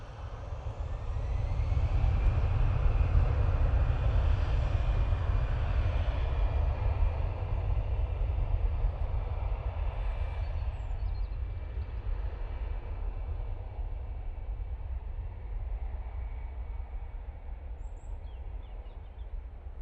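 EasyJet airliner departing Manchester Airport for Naples, jet engines roaring on takeoff as a loud, steady broadband rumble that swells early and then slowly eases as the aircraft climbs away.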